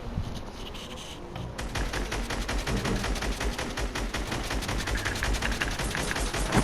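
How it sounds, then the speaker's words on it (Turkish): Video game gunfire at mid distance, rapid rattling bursts of shots that run almost nonstop in dense volleys, loud and without speech. "Orta uzaklardan silah sesler geliyor."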